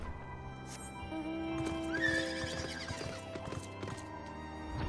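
A horse mount in Final Fantasy XIV neighs once in a bright whinny while hooves clip-clop steadily, set against game music and ambient sound.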